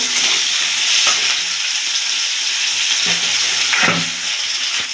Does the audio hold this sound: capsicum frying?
yes